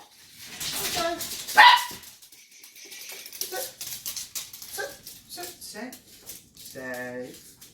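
Puppies bark and yip in a quick, irregular string of short high yelps, some rising into whimpers. The calls come at a moderate distance, with quiet gaps between bursts.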